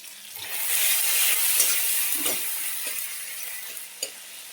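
Tomato sizzling as it fries in a curry pan, a bright continuous hiss that swells then eases, with a few scrapes and light clinks of a utensil up close.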